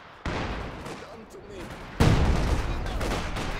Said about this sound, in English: This is barrage now from DarkRegion coming across.